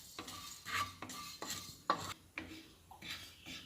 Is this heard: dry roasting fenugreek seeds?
yes